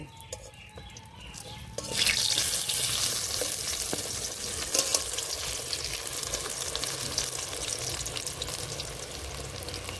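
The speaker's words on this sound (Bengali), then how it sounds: "বেগুনগুলো ভাজা হয়ে গেছে তুলে নেব" Eggplant slices dusted with turmeric, salt and cornflour frying in a pan, a quiet start that bursts into a loud, dense sizzle and crackle after about two seconds and continues steadily, with no talking.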